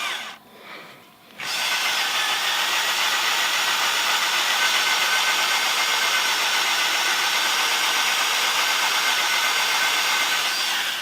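A drill bores steadily through steel pipe into reinforcing rod, a loud continuous grinding whine with a brief dip near the start before running unbroken to the end.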